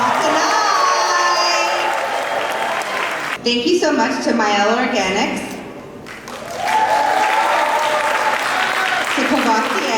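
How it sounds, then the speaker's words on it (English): A fashion-show crowd bursts into clapping and cheering for designer Karl Kani, dense applause with whoops throughout, briefly thinning midway while an announcer talks over it, then swelling back up. "I'm going to need a louder round of applause than that"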